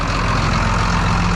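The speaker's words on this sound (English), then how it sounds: "This is my transport tractor. It's really small" A small transport tractor engine runs on a Southern Alberta farm, a loud, close, steady diesel drone with no talking.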